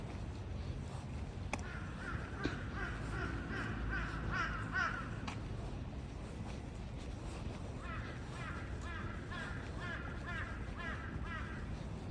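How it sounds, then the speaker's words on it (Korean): Crows cawing repeatedly while squabbling with magpies on a walking path at an ancient tomb park in Seokchon-dong, Seoul, with harsh calls in bursts over outdoor background noise. "오 까치와 까마귀하고 붙었어요"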